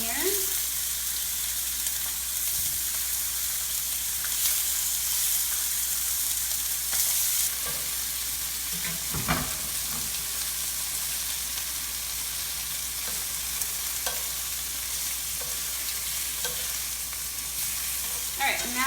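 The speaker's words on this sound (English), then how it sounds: "I've got my cast iron skillet here. So I'm just going to, I've got salt and pepper on this and a little bit of onion powder. I'm just going to lay these all down in here." Chicken seasoned with salt, pepper and onion powder sears in a cast iron skillet, giving a loud, continuous close-up sizzle with occasional crackles and pops throughout, with no talking.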